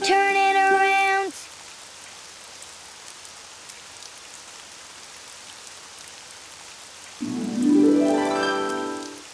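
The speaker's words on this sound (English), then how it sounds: "It's raining outside." Soft, steady rainfall hisses throughout, with a tonal sweeping sound rising over it near the start and again toward the end.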